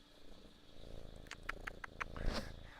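A pet cat purrs softly and close up, a low, quiet rumble with a few faint rhythmic pulses near the end.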